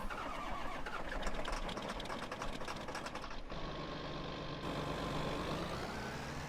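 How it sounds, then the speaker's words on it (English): Tractor engine in a farming simulator game, running steadily and loud throughout with a dense mechanical rattle, a brief change in tone partway through, no talking. "So I'm going to back this tractor out."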